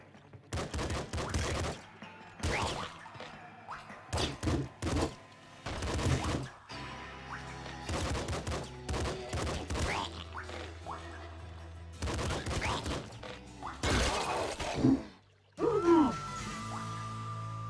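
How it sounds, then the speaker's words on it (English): Enemy gunfire in Nuclear Throne, clusters of rapid small shots in irregular bursts over bubbly game sounds, with a voice speaking briefly between them. "I think there was somebody shooting."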